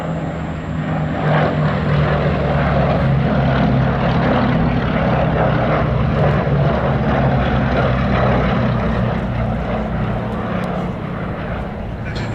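A Westland Lysander propeller aircraft, a Canadian-built example, flies over Duxford at the Battle of Britain air show, its engine drone loud, steady and continuous, with a rich low rumble throughout.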